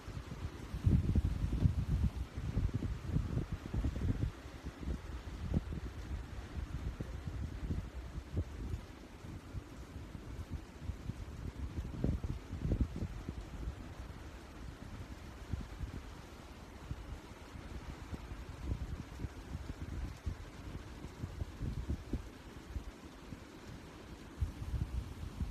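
Outdoor wind rumbles and buffets the microphone on a very hot day, forming a steady low, faint roar throughout with no clear talk.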